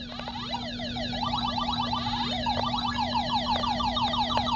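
A Ms. Pac-Man arcade game's looping siren wails in rising and falling sweeps over a steady electronic hum, loud and close, with no talking.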